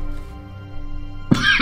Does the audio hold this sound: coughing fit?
yes